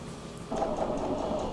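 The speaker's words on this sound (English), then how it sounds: "And then I'm just stitching across the top." A sewing machine stitching across the top of a dress lining, a soft, quick, steady whirring rattle that starts partway in and runs to the end, close and fairly quiet.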